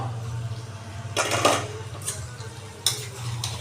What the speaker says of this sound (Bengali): আবার নাড়িয়ে দেবো।